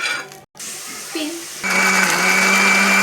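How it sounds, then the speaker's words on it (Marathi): A kitchen mixer grinder starts up in a jar of roasted spices for a chicken and fenugreek-leaf dish, settling into a loud, steady whirring drone after a brief pause and a short whine. "थोडं थंड झाल्यानंतर आपण मिक्सर जारमध्ये वाटणार आहोत।"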